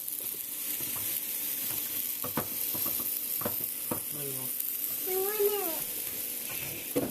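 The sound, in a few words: garlic mushrooms sizzling in melting butter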